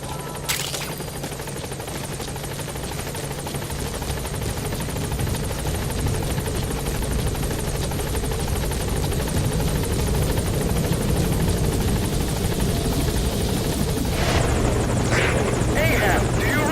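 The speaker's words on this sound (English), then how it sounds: "Support helicopter has arrived." A support helicopter in Metal Gear Solid V: The Phantom Pain arrives at a landing zone, its rotor thudding loud and continuous with a steady engine buzz, while voices talk over it.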